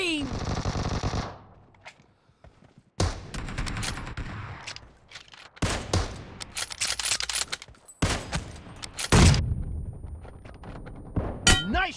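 Automatic gunfire in the video game PUBG rattles out in several loud bursts separated by short gaps, with metallic clangs and a ding among the shots and game sound effects in between.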